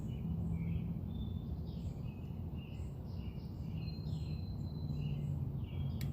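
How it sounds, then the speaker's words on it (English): Morning birds chirp and twitter faintly in the distance over a low, steady rumble of background noise, with scattered short calls throughout. "It's the sounds of the birds."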